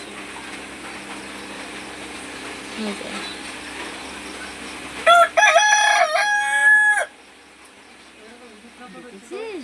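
A rooster crows once nearby, a loud strained call of about two seconds that rises out of a murmur of background voices and household noise, followed by quieter room sound.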